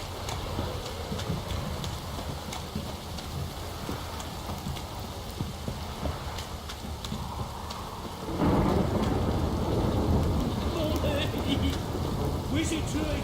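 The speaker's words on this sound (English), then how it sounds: "This downpour's a bastard, it is." Steady heavy rain pours throughout with low rumbling thunder in The Witcher 3, the downpour swelling louder partway through.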